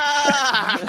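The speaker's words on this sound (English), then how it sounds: "The wild horse making a surprise appearance, welcoming everybody to the Blue Review." A wild horse sound effect sounds as a single loud neigh or whinny lasting under a second, with strong harmonic tones, heard alone and close.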